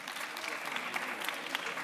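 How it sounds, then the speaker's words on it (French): Students in a school setting applaud classmates after a debate, a brief, fairly faint patter of many hands clapping at an even pace. "applaudissez ceux qui ont un peu changé d'avis"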